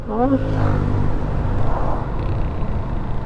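Suzuki SF 155 motorcycle, new and still in break-in, engine running smoothly as it rides along, a steady mid-level hum with a short rising note at the start, a voice talking over it.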